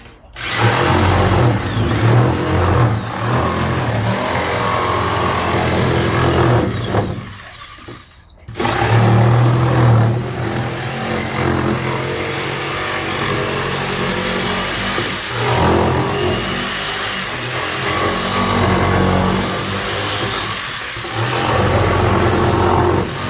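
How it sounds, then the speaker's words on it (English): A loud power tool whines and grinds steadily while cutting a hole for a wood stove exhaust, pausing briefly once before resuming its continuous cutting noise. "here we are cutting a hole for the exhaust for the wood stove"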